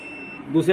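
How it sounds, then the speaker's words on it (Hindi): Short electronic beep from a multimeter on continuity test across slip ring motor terminals, a steady tone rising near the end among talk. "देखो, यहाँ पे भी आपको बीप का साउंड सुनाई दे रहा होगा"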